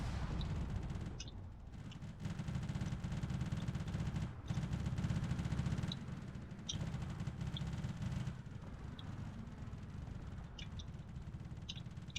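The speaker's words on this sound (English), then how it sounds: "These turrets are definitely doing everything they can to take out these targets, but those missiles are really hitting hard." Turrets firing and missiles striking in the Drone Wars video game, a dense continuous low rumble of gunfire and impacts with brief dropouts and faint high clicks, running steadily throughout.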